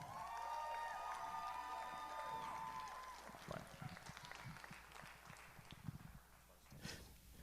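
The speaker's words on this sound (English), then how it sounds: "Can we get one more round of applause for them?" Applause from an audience at a high school spring band concert, clapping rising under a fading sustained instrumental chord, then thinning into scattered claps, quite faint and distant.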